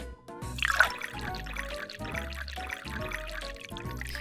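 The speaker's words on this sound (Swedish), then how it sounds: "Vi häller upp dig ett glas." Slimy purple onion juice is poured into a glass, a steady trickling pour with soft drips, over a light rhythmic backing tune.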